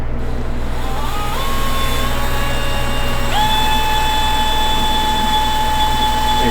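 A power drill whines loudly and steadily, its pitch climbing as it speeds up and bites into a wooden beam in a coffee trailer, close and continuous.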